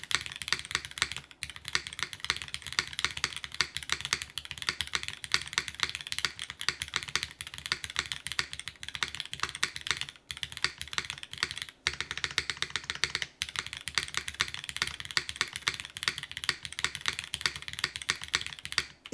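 Rapid, steady typing on an aluminum top-mount mechanical keyboard with O-ring and gasket mounting, fitted with lightly lubed Cherry MX2A switches, giving dense close-up keystrokes with brief pauses and no talking.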